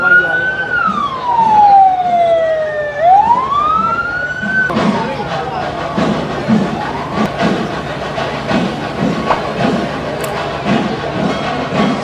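An ambulance siren wails loudly through a festival crowd during Thrissur's Pulikali on Swaraj Round, its pitch sweeping down and back up for several seconds before fading into dense crowd noise with voices and distant chatter.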